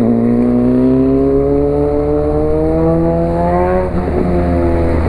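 A Honda CB 1000R Barracuda motorcycle engine revs hard and close, its loud droning pitch climbing steadily for several seconds before dipping briefly, with no voices.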